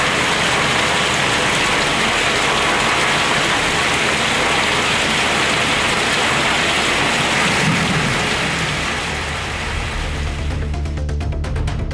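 Heavy, continuous sudden summer rain pouring down close by in Mathigiri, Tamil Nadu, a dense steady hiss that eases slightly toward the end.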